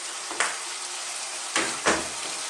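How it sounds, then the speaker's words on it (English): Fresh chopped tomatoes hit a hot pan of beef and mushroom masala curry, giving a steady sizzle broken by three louder bursts of hissing frying as they land and are stirred. "Fresh tomatoes, I'm going to put them in."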